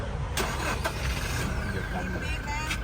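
A Toyota Revo pickup engine starts up at a dealership, a brief crank followed by a steady mid-pitched idle, heard close under a man's speech.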